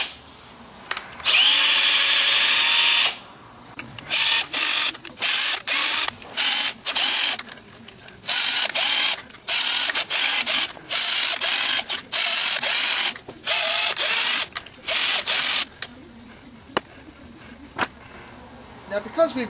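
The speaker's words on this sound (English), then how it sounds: "Now we'll just tap out those 8 holes." A power drill fitted with a tap and set to a low clutch threads eight holes in a motor gearbox for a rover build, whining in loud repeated bursts separated by short pauses.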